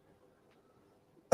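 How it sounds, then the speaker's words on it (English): A single sharp cough bursts out loud and close at the very end, after near silence. "sorry for my cough"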